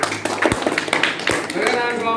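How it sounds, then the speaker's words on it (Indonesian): Scattered applause for a student group fills a classroom, uneven claps from several people that rise and taper over a couple of seconds, with voices talking underneath. "Tepuk tangan untuk kelompok dua."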